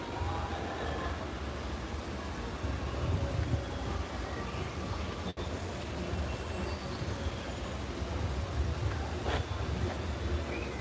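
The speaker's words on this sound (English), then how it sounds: "You guys hear the train?" Train at Tom Sawyer Island in Disneyland passing nearby, a continuous rumbling roll with rattling wheels that holds steady throughout, set against outdoor ambience with no talking.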